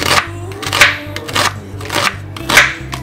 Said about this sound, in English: Clean, cut, and slice the onions really finely.